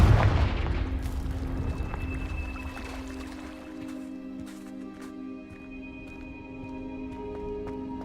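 A Confringo spell in Hogwarts Legacy explodes with a loud booming blast at the start, then rumbles away into a lingering ringing tone and sparse crackles.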